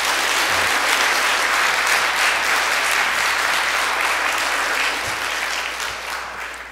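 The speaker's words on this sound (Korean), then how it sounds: "우리 성가대 위에서 다시 한번 우레와 같은 박수 부탁드립니다" Church congregation gives the choir a loud, sustained round of applause, a dense wash of many clapping hands that holds steady and then tapers slightly toward the end.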